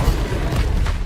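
An Incendio fire spell cast in a Harry Potter video game makes a brief, loud, low whooshing boom of flame with a rumbling burst.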